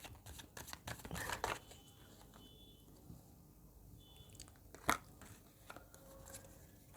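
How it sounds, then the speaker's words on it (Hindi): Tarot cards are shuffled by hand, a quiet close run of papery riffles and flicks with a sharper snap partway through, alone without talk. "final shuffle"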